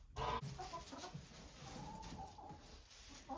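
Chickens clucking inside a barn where goats are kept, with barn cats around, heard as scattered close clucks and rustling movement over a busy, noisy background.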